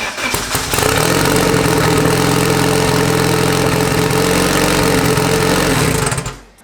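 A Honda Civic LS VTEC engine with a newly fixed distributor and set base timing starts up and idles, a loud, steady, close throb that runs unbroken for several seconds before cutting off, with no talk.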